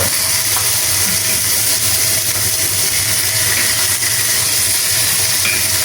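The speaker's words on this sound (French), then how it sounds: "On fait revenir les oignons." Onions frying in a pan for a beer-roast recipe, a steady broad sizzle with constant hiss, loud and close throughout without a break.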